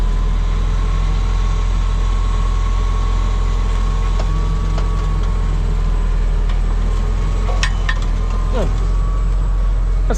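Continuous low rumble of an MF 6499 tractor idling with a Samasz butterfly mower winding down behind it, a steady loud drone heard from the cab with faint clunks near the end.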